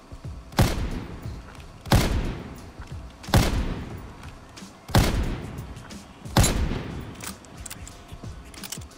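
A PTRS rifle fired in a video game, with five loud, heavy booms spaced about 1.3 seconds apart. Each blast rings out into a decaying tail, with no talk between shots.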